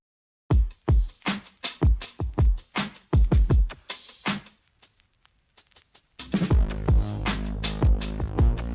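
Beat drum loop with panned accent hi-hats, punchy hits and crisp ticks in a busy rhythm, then a dense sustained bass layer joining midway, loud with no talk.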